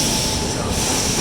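An Indian Railways train, number 12192 on the Agra Cantt to Delhi Nizamuddin route, rumbles past close by with dense, loud wheel and carriage roar and a high squealing edge, filling the whole short stretch without a break.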